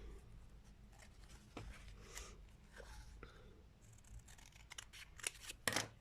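Scissors snipping a small 4 cm paper square folded diagonally, a series of quiet crisp cuts that grow sharper near the end, alone without talk.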